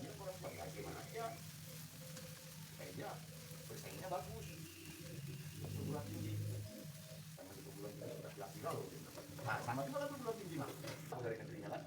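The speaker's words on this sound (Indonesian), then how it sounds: "Kita goreng sambelnya atau bumbu halusnya sampai wangi." Oil sizzles steadily as a ground chili spice paste fries in a pan for fried rice, with occasional stirring scrapes, under continuous talking.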